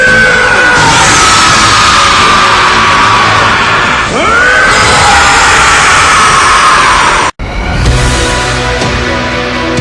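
Vegeta, the Dragon Ball anime character, lets out a long sustained scream while powering up, very loud and strained with rising and falling pitch, cut off abruptly and followed by a brief return of roaring energy.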